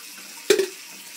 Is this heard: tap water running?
yes